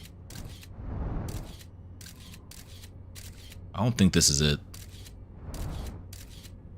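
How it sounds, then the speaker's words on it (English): A camera shutter sound effect from the video game Outer Wilds clicks repeatedly in crisp, evenly spaced snaps. Someone talks briefly over it, with a louder rustling burst midway. "Can I turn off the camera shutter sound effect?"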